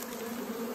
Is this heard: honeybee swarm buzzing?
yes